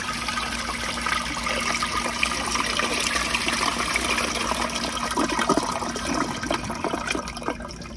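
An American Standard Cadet space saver toilet draining slowly and refilling, a steady rushing and trickling of water running continuously at moderate level, with faint gurgles and no voices.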